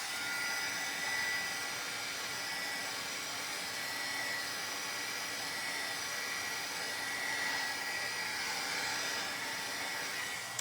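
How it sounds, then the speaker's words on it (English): An embossing heat gun blows steadily over a handmade Christmas card to dry it, giving a continuous, even fan-like whoosh that stays quiet and unbroken from start to finish, with no voices. "I might need maybe a hit it with the embossing gun real quick."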